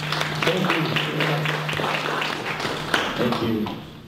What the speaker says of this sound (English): Let's give Eric Cedo a warm round of applause and welcome him to LA2M.